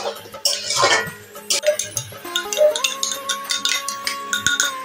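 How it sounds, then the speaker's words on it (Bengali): A metal spoon scrapes and clinks against a pan while mutton bhuna masala is stirred and fried, giving irregular close knocks and scrapes with faint ringing tones between them. "এখন আমি ভালো করে নাড়িয়ে চাড়িয়ে কষিয়ে নিচ্ছি।"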